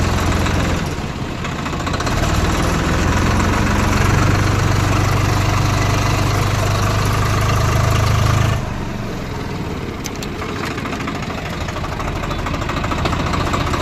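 A heavy diesel engine idles nearby with a deep, knocking rumble that grows louder midway, then drops back to a lower steady chug, from a Swaraj 744 FE tractor with gearbox noise.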